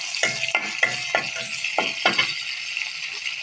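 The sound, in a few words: chopped green chilies added to hot oil, sizzling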